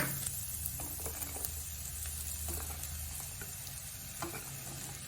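Steady sizzling and crackling of sliced okra stir-frying in a pan, with light scraping from stirring, quiet and continuous with no talking.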